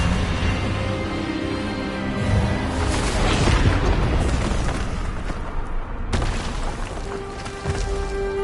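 The Expelliarmus disarming spell is cast in Hogwarts Legacy, a loud, booming magical blast with a sustained rumbling roar that swells and then cuts off sharply before a softer tail.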